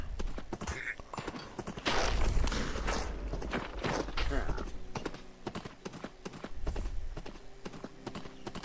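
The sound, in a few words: horse hooves clip-clopping in the video game Wynncraft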